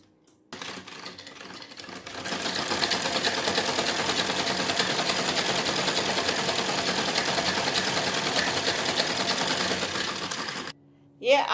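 A sewing machine runs steadily, stitching a seam along one side of a salwar, loud and close for about ten seconds before stopping abruptly.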